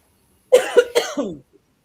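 A few harsh coughs in quick succession from one person nearby, lasting about a second, in an otherwise quiet room.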